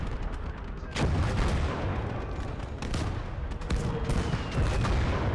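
Artillery shells fire during a video game battle, with several sharp, loud booms landing among a steady wash of gunfire and explosions, close and continuous throughout.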